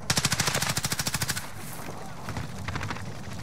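Automatic gunfire in Warzone, a rapid burst of evenly spaced shots for over a second, then quieter scattered shots and game noise with a faint voice underneath.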